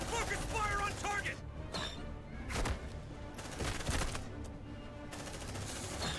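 Rapid bursts of automatic gunfire and clanking impacts from the video game Aliens: Dark Descent, with dense overlapping shots and a voice talking over the action.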